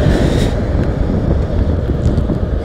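Cool wind blows across a mountain road between Almora and Someshwar in Uttarakhand, a loud, constant low rushing that buffets the microphone with no pause and no voices.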